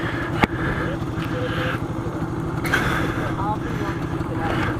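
A Yamaha Banshee 350 two-stroke ATV engine runs steadily nearby with a fast buzzing putter. A person talks over it.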